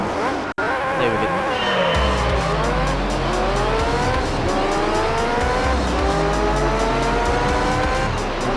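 Formula 1 race cars in Gran Turismo 3 race through a Seattle street circuit, engines screaming loudly and continuously with rising and falling pitch as they shift gears, several cars overlapping, plus brief tire squeal.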